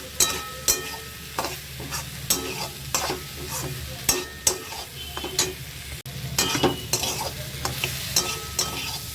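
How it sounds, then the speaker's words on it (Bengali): Turmeric, chili, coriander and garam masala stir-fried in oil for Bengali-style ghugni, with steady rhythmic spatula scrapes and clanks against the pan over a continuous close sizzle. "দিয়ে মশলাটাকে ভালো করে আমি কষাবো যতক্ষণ না পর্যন্ত একটু তেল ছেড়ে আসে।"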